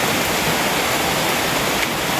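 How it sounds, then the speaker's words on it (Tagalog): A small freshwater stream flows steadily in the countryside, giving a continuous broadband rushing and trickling wash at an even level with no voices. "nandito ako sa ano, maliit na sapa"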